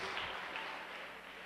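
Church congregation applauding during a Sunday service, a faint, dense patter of many hands clapping at a distance, fading slightly toward the end.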